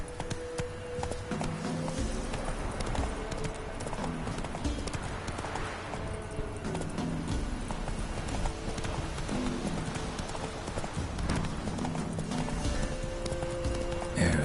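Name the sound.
horse galloping in video game The Witcher 3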